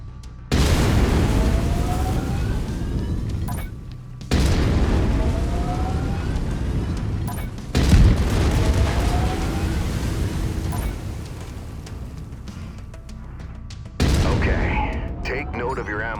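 An autocannon fires in MechWarrior 5: Mercenaries, heavy booming shots arriving as four separate loud bursts spaced a few seconds apart, each followed by a rumbling decay.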